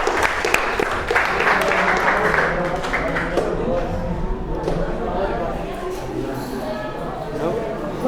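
Applause for a student in a high school classroom: a crowd of students claps steadily, loud at first and gradually thinning, with some voices murmuring beneath.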